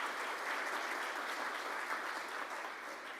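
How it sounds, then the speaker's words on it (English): A room of Rotary Club members in Tulsa applauds at a meeting, a dense, steady patter of many hands clapping continuously at moderate distance for about three seconds with no talk over it. "If we can give them a round of applause for joining us today."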